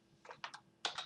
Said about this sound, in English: I'm going to do new file, name this server.js, add this file, and you want to type the following.